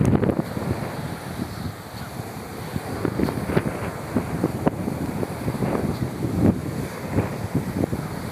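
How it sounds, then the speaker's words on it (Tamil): Strong wind roars across a beach, buffeting the microphone in a loud, continuous rush with gusty bursts and crackling flutter, the surf faintly mixed underneath. "பயங்கரமான காற்று."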